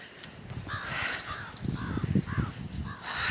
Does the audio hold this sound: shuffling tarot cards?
no